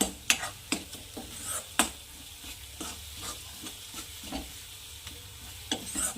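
A spatula stirs a vegetable curry frying in oil in a pan, the food sticking slightly to the bottom. Repeated scraping strokes and clinks fall in an uneven rhythm over a soft, continuous sizzle.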